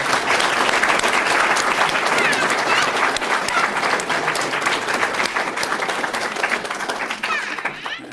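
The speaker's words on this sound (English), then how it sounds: "Let's give a round of applause to Mark." Audience at a spiritual satsang gathering applauds Mark, steady dense clapping lasting several seconds, fairly loud and even before tapering slightly at the close.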